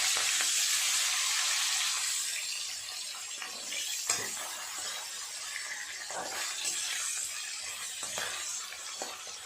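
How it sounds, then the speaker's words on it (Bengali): Fish fries in oil with a continuous bright sizzle, punctuated by occasional clinks and scrapes as the pieces are turned, fairly close and moderately loud. "এই পাঁচটা ভাজা হয়ে গেছে উল্টিয়ে বাকিটা ভেজে নেবে"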